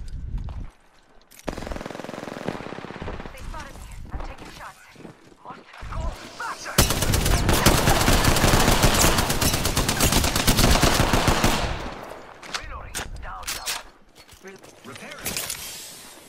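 Automatic and rapid gunfire in an Apex Legends match, loud bursts dominating the middle stretch with scattered shots before and after, while players talk over the action.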